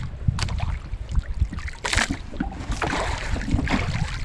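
A fishing boat's engine drones steadily while trolling at sea for tanigue with a Rapala lure, a continuous rushing, churning noise that holds close and fairly loud throughout with no talking.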